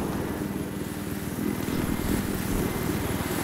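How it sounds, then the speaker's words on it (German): Helicopter flying in the Battlefield 3 video game, a steady loud rotor and engine drone with rhythmic blade chop, continuous and close. "Ich bin gerade der Heli über dir."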